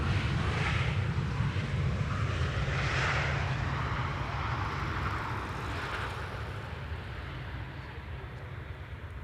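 A KLM airliner landing on the Polderbaan runway at Amsterdam Schiphol, a broad rumbling jet roar with a few swelling surges that eases off gradually toward the end.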